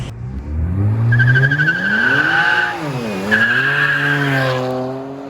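BMW 335i N54 with an upgraded 7.5-inch ARM intercooler pulling hard, engine note rising in two long sweeps with sharp tire squeal laid over each run, loud and close with no talk.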